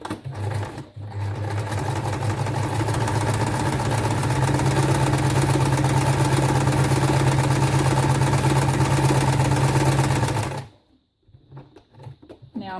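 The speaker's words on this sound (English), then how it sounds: "very tiny zigzag stitch, and I'll go quite close to the edges" A sewing machine runs a very tiny zigzag stitch close to the edge of floral fabric for an envelope, a steady loud mechanical whir for about ten seconds before stopping abruptly, followed by near silence and faint handling.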